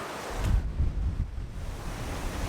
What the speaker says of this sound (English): it got real windy over here